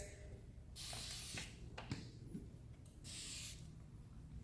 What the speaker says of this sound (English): So spray all the baby hairs.